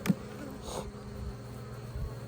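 Honey bees buzzing around a beehive, a faint steady hum of many insects with a brief louder buzz as one passes near the microphone at the start.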